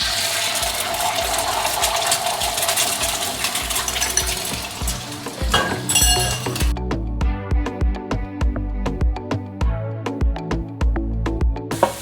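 Beaten egg whites sizzling in an oiled pan as they are broken up. A dense frying hiss gives way to rapid clicking and scraping taps from the utensil.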